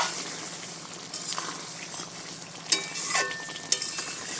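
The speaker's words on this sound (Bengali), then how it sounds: "বেশ সুন্দর ফুটে উঠেছে" A sour-spicy-sweet khaira fish curry bubbles in a pan, a soft continuous simmering hiss with a few sharper clinks and stirring scrapes near the end.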